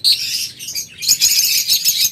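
Lovebirds, pregnant hens among them, chirp in a busy overlapping chatter with a brief lull midway, close and fairly loud.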